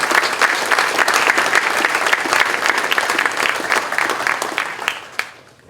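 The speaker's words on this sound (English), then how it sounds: "please give all 12 of these men a round of applause for their hard work" An audience at a graduation ceremony claps for the honorees, a full, even round of applause that holds steady and then thins out and fades near the end.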